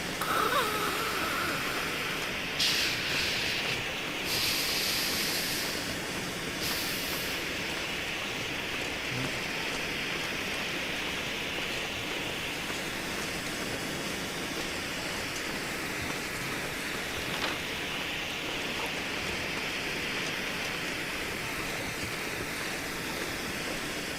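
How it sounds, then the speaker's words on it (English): A burning flare in The Long Dark video game hisses steadily and evenly, a continuous broadband rush held at a constant level for the whole stretch, with no voices over it. "I'm talking about the noise from the flare."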